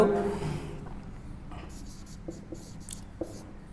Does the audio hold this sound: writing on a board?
yes